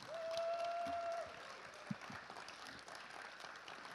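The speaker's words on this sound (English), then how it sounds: "Let's give them a round of applause" Applause from a high school gym crowd honoring the 2020 Brewer High School homecoming court, a fairly faint, steady wash of clapping with a brief tone near the start and a sharp knock partway through.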